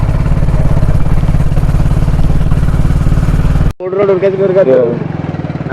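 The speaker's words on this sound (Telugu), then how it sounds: "పోతా ఉన్నాం బైక్ మీద ముగ్గురం." A motorcycle carrying three riders thrums steadily at close range, then cuts off abruptly, followed by a person talking.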